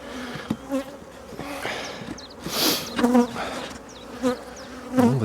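Buckfast honey bees buzz steadily around their hives, a close, dense insect drone with individual bees swelling louder as they pass near, over a quiet outdoor background.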